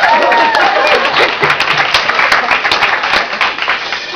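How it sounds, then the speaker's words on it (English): A small audience claps together, a dense patter of hand claps that holds steady for a few seconds. "You should all clap for them."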